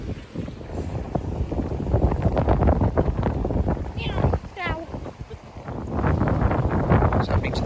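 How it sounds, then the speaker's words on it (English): Steady wind blows across a sailboat at sea along the Sardinian coast during a mistral, a continuous close rush with water and hull noise beneath. Bursts of speech rise over it throughout. "What's happening to this wind? It's changing."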